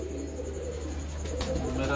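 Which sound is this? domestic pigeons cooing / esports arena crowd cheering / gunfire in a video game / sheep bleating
domestic pigeons cooing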